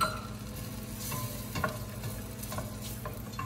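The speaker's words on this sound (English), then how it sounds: "we're gonna add just almost a cup of finely chopped onion, and we're gonna get that going." Finely chopped onion, almost a cup, sizzling in melted butter in a pan, a steady close crackle and hiss with light stirring taps, no talking.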